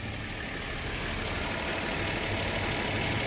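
A 2004 Nissan Maxima SL engine idles steadily up close, a continuous broadband hum and whir with a faint belt spin beneath, no voices.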